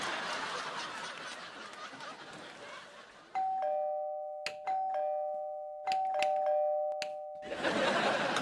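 A two-tone doorbell chime rings out clearly, sustained notes, with a few soft snickers and chuckles around it and noise before and after.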